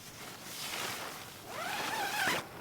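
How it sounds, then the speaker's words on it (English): Tent and inner insert zippers are pulled closed in one long, rasping zip that rises toward the end and then stops. It is fairly close and heard alone, with no talk. "I'm gonna zip up my insert, and zip up my tent."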